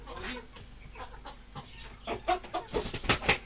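Rooster clucking at a bird market in Islamabad, several short clucks close by with people talking and crowd noise around, growing busier toward the end.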